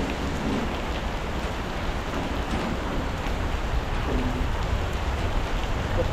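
Heavy rain pours down steadily, a dense hiss of drops hitting surfaces, continuous and fairly loud with no voices.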